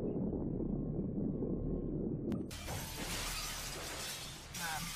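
Glass walls shatter in one sudden, loud crash midway through, cutting off a low rumbling drone and leaving a bright spray of breaking fragments that fades away.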